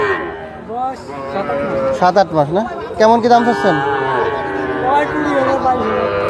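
A young Sahiwal breed calf moos at a busy cattle market, its drawn-out calls rising and falling amid close conversation between people and background chatter.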